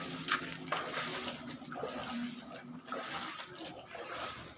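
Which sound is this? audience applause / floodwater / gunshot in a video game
floodwater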